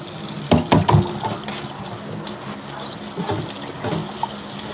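Tap water runs and splashes into a pot while rice is rinsed for chicken soup, a steady close gush with a few louder sloshes and clatters near the start.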